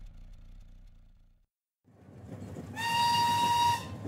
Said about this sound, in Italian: Il fischio della locomotiva mi svegliò di soprassalto.